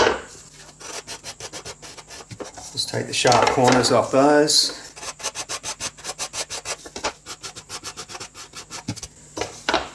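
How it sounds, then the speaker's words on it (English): Rapid rhythmic rasping of a sanding block on wood, strokes repeating steadily and close by, with a brief spoken remark partway through. "So blending that now with the sanding block's really easy"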